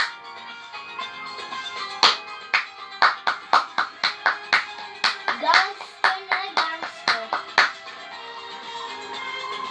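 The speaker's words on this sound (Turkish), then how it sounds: "Alkış." Sharp, distinct hand claps ring out in a rhythmic run of about twenty beats, close and crisp, over a faint tonal background.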